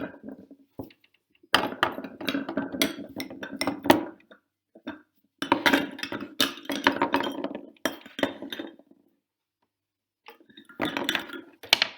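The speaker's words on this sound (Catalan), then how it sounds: "Pareu els plats, que la sopa ja bull." Plates set out for soup clink and clatter in several busy bursts separated by short silences, close by and fairly loud, with no talk over them.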